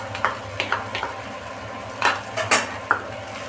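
Chow mein noodles tossed with soy, chili and tomato sauces in a pan, giving scattered metallic clinks and scrapes of a utensil against the pan, a handful of sharp close hits over soft background.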